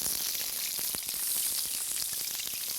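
Chopped onions frying in a pan over flame, a dense steady crackling sizzle with fine popping throughout, close and even.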